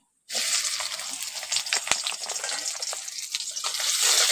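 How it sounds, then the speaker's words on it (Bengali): Chopped onion drops into hot oil in a kadai and starts frying at once with a sudden bright hiss that holds as a steady, close sizzle with small crackles. "কড়াটা এখন গরম হয়ে গেছে ওই তেলের মধ্যে দিয়ে দিচ্ছি পেঁয়াজ কুচি"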